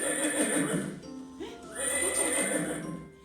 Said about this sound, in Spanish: ¡Un caballo!